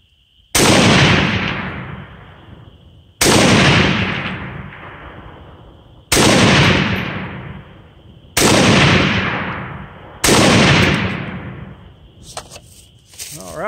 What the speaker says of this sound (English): So let's see if we can get some shots here at